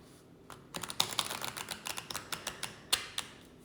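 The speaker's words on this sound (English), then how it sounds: "So first, let's shuffle the deck." A deck of oracle cards being shuffled by hand: a quick run of crisp, papery flicks and taps, close and fairly quiet, with no voices.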